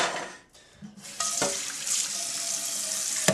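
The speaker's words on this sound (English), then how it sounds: "Rinse it out." Tap water runs into a sink as a pan is rinsed, a short splash and pause before a steady loud gush of running water continues to the end.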